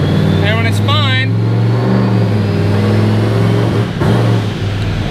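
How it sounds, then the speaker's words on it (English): A 2003 Mustang with a turbocharged 4.6L engine runs and hesitates. A loud, close engine drone is broken by a brief early whine and a dip near the end. "The car is actually running, but we got nothing on there, and it basically hesitates."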